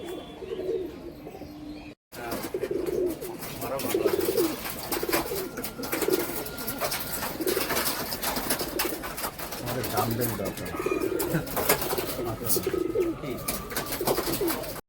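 Kalanka pigeons coo repeatedly in soft rhythmic bursts, close by, with other birds chirping and a person talking intermittently over them.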